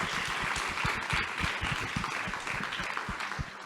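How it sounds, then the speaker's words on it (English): Audience applauding the men at a women's forum morning session, a steady wash of many hands clapping at moderate distance, filling the whole stretch without a break. "ladies, please, a round of applause for them"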